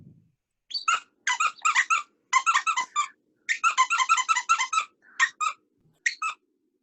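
A manatee gives rapid bursts of high, chirpy squeaks in quick clusters with short pauses between, clear and close against a silent background.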